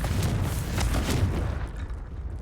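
Booming fiery explosions from the Confringo spell in Hogwarts Legacy, loud, low and rumbling, with a couple of bursts rolling together before tapering off.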